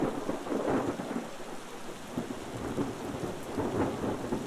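Heavy thunder rolls in a long, deep rumble over steady rain, loud and enveloping with swelling surges and no voices.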